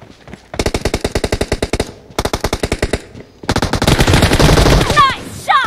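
Rapid automatic gunfire from a team deathmatch shooter video game rattles in three close, loud bursts, the last long and dense, with brief pauses between them.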